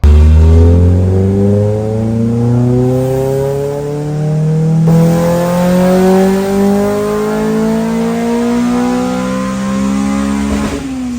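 A loud Honda B16 engine revs up repeatedly, pitch climbing in long sweeping pulls between brief drops, close and unbroken with no talking.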